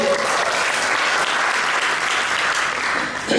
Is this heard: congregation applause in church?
yes